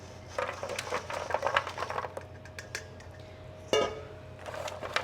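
Bread cubes coated in olive oil are spread across a sheet pan, giving light scattered clicks, taps and small scrapes close by, with a sharper clatter near the end and no talking.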